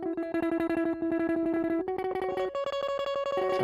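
A high synth note layer run through distortion, reverb and bandpass effects pulses in rapid, even stutters, the bright buzzy tone stepping up and down in pitch a few times, loud and alone.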